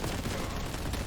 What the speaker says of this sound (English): I forgot that was a crack grenade.